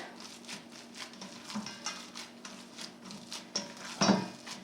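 Salisbury steak mixture going into a hot pan, a soft sizzle under light scraping and stirring taps, with a sharper clatter of metal near the end, close and fairly quiet, with no talking.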